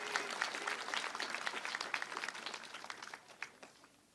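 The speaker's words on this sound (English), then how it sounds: "Round of applause for Greg there," A round of applause for Greg, a NSW Police Force dog, at a police class attestation ceremony: scattered, moderately distant clapping from an audience that thins out and fades toward the end.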